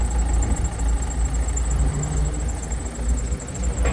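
A BMW F20 with an N47 diesel engine idling after a full service, a steady low rumble with a constant high whine running through it, heard close and alone.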